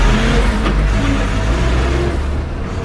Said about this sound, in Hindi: इस तरह कुशल अपनी जेसीबी को पानी से निकालता है।